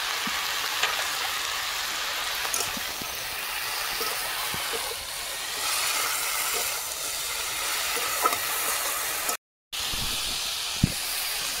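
Saag greens sizzling and hissing steadily in a hot pan, a continuous close frying crackle with small pops, no voices.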